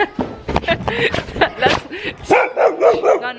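Nala, a female dog belonging to the property owner, barks and yips repeatedly at close range, with a person speaking over and between the barks.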